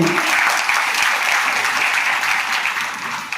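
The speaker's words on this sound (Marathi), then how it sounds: "जोरदार टाळ्या सगळ्यांसाठी" An audience at a Sargam music academy's seventh anniversary celebration claps loudly and continuously, a dense sustained burst of applause that tapers slightly toward the end.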